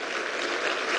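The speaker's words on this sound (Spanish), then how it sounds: "Pido un aplauso para ese médico de los pobres, Henry Ventura Moreno." Steady crowd applause fills the whole moment, a dense wash of clapping hands with no pauses, at the installation session of Venezuela's National Assembly.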